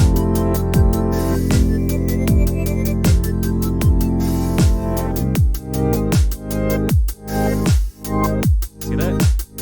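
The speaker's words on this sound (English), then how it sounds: "the kick will shine while the song ducks underneath the kick" A song pumping under a steady kick drum with harsh sidechain compression, the music ducking sharply on each beat and swelling back between kicks, the pumping growing deeper and more obvious in the second half.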